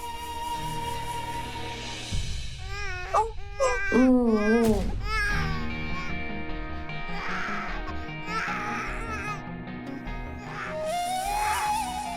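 An infant cries in loud, wavering wails that rise and break in repeated bursts, set against steady background music in a television drama scene.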